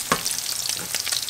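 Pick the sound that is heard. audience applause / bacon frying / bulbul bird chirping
bacon frying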